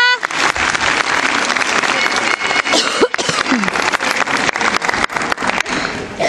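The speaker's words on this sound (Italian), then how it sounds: "Ancora un grande applauso a questa piccola Renata." Spectators at a regional award ceremony applaud loudly and continuously, a dense close patter of many hands with a few sharp claps standing out and voices in the background.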